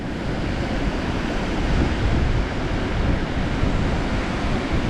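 Strong ocean surf breaking on a shore where fishing boats cannot land, a loud, continuous roar of crashing water mixed with wind buffeting the microphone, with no voices.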